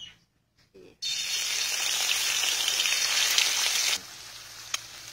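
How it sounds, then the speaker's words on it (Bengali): Eggs sizzle and spit in hot oil in a pan, a loud, steady frying hiss that starts abruptly after a brief quiet moment and carries on close up, then drops slightly in level near the end. "এবার ডিমটাকে ভেজে নেবো, সুন্দর করে ভাজবো।"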